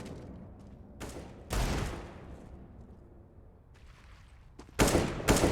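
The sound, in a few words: AK rifle gunfire in video game Counter-Strike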